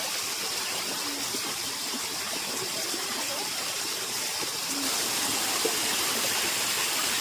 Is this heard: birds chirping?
no